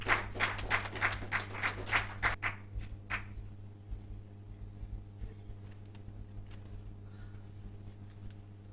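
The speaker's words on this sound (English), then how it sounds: "A round of applause for them as they step up." An audience at an awards ceremony and report launch applauds briskly for about three seconds, then the clapping fades into a quiet hall with a few scattered claps and a low hum.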